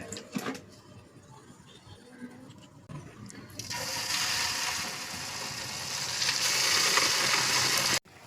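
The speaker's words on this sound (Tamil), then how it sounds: "எண்ணெய் நல்லா சூடாயிடுச்சு. இப்ப கரைச்சி வச்ச மாவை கொஞ்சம் கொஞ்சமா எடுத்து போட்டுக்கலாம்." Corn batter dropped into hot oil, with a few light clatters at first, then a loud, steady sizzling hiss that rises suddenly and holds until the end.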